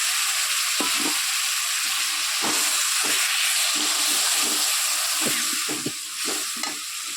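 A fish head fries in a pan with bottle gourd, giving a loud, steady sizzle and hiss broken by repeated stirring clatters, with no one speaking.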